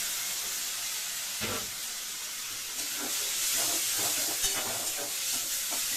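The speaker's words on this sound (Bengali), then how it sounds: "চিংড়ি মাছ বেশি ভাজে না, অল্প ভাজবো।" Shrimp frying in a pan with softened tomatoes, giving a steady close sizzle and hiss with faint spoon stirring scrapes throughout, no talking.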